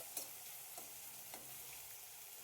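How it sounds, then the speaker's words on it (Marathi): Chopped onion sautéing for masoor dal, a quiet steady sizzle with a few spoon scrapes against the pan, heard close and alone. "कांदा चांगला आपल्याला परतून घ्यायचा आहे दोन तीन मिनिट कांदा छान परतून घ्यायचा"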